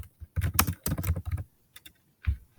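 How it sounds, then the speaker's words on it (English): Computer keyboard typing during a Nitro Type typing race, close and loud, in quick irregular bursts of keystrokes separated by brief pauses, with no talking. "I have not been typing that"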